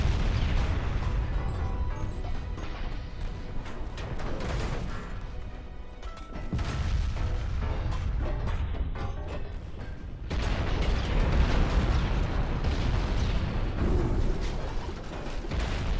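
Torpedo hits and explosions in a naval warship battle game, heavy continuous rumbling booms and crashing impacts in long loud waves, dense and roaring throughout with no voices.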